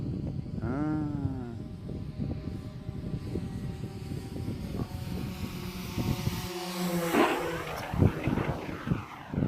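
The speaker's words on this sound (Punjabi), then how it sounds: "ਇਹ ਚਾਰ ਮੋਟਰਾਂ ਇਹ ਚਾਰ ਮੋਟਰਾਂ ਜੀ ਮਤਲਬ 16 ਕਿਲੋ ਭਾਰ ਨੂੰ ਪਿੱਛੇ ਨੂੰ ਧੱਕਦਾ" A large four-motor drone with carbon fiber propellers gives a steady loud whirring hum that holds throughout with shifting tonal whines, close by and outdoors.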